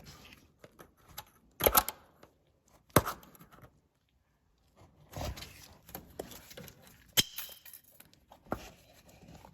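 Metal clicks and clangs from pulling up the two tabs and releasing an aftermarket clamp on a steering bellows during a knock bushing install on an NSX, a few sharp snaps among quieter handling noises.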